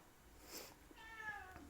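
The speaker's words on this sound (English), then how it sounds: "What do you want, cat? Meow." A domestic cat gives a single short, fairly soft meow against a quiet indoor background.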